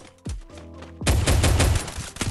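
Pistol shots in a mobile battle-royale shooter game, a couple of single cracks followed by a loud rapid burst of gunfire, close and dominant.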